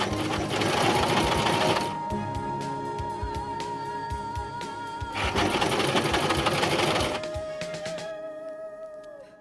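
A sewing machine stitches straps on baby pants sized for three to six months, running in two loud fast bursts with a softer, slower whirring stretch between them before stopping near the end.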